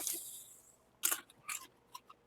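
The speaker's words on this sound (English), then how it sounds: "That's crunchy." Crunchy snack being bitten and chewed close up, a few sharp crisp crunches spaced apart in a quiet room.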